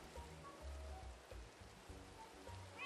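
Steady soft rain hisses in the video game Minecraft, a faint, continuous patter with low muffled thumps underneath and no talking.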